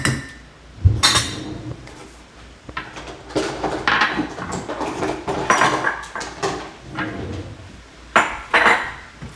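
Spaghetti pasta being stirred in a cooking pot, with close metallic clinks and scrapes of utensil against pan in an irregular rhythm, no talk.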